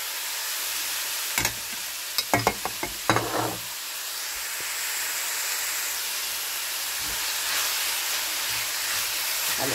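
Vegetables, rice, parsley and mint being stirred together in a pot, with a few sharp scraping knocks of the spoon early on over a steady soft sizzling hiss.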